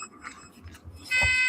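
A Morley IAS fire alarm panel starts sounding its alarms: a steady, loud electronic tone cuts in abruptly after a second of quiet handling noise and holds to the end.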